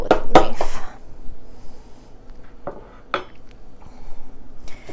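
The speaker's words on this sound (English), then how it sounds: "gonna cut it with a knife" A knife cutting through meat lasagna on a plate, with several bright clinks and scrapes of metal on the dish clustered at the start and a few more later, loud and close.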